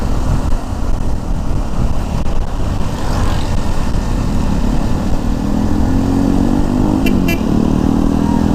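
A motorcycle engine drones steadily while riding along the Marilaque highway, loud and close throughout, with wind rush and a faint rising engine note near the end.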